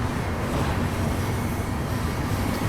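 A train crosses on the opposite bridge with a loud, steady low rumble and rolling rattle heard from inside a moving passenger express train, with no talking.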